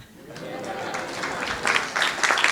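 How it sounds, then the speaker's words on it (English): An audience at a presentation on hidden bias claps, the applause building from scattered hands to a fuller, moderately loud round over a few seconds. "let's just give ourselves an applause for something we have in common"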